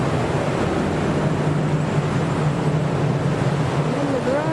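Fans run in a garage in New Jersey after Hurricane Irene, giving a loud, steady whirring drone with a constant low hum throughout and no break.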